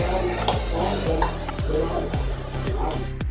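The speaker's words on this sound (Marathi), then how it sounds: "आता आपण हे वेलची आणि जायफळ पूड टाकून व्यवस्थित मिक्स करून घेऊया" A mango juice mixture with cardamom and nutmeg powder being stirred in a pan, a sizzling base with a regular series of scraping spoon strokes about every half second, close and clear.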